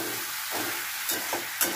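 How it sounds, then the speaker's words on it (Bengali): Spice paste with turmeric sizzling and being stirred in a pan for a katla fish curry with potol and potato, a steady frying hiss with a few short scraping stir strokes near the end. "এবার আমি মশলা দিয়ে একটুখানি কষাবো।"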